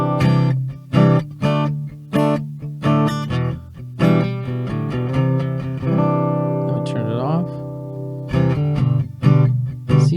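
Acoustic guitar played through a Helix preset with the low EQ gain cut by 4 dB, heard as strummed and picked chords with ringing sustained notes and a brief slide, loud and close, with no voices over it.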